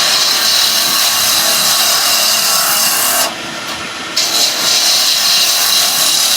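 A wood lathe roughs down a stabilised, dyed burl pen blank, a loud, steady rasping, scraping whir of the cutting tool. The cut runs continuously, breaks off briefly in the middle, then picks up again.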